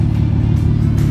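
A Dodge Intrepid's engine idles nearby, a steady low, loud rumble with no change in pace and no voices.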